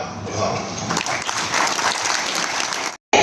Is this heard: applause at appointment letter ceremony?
yes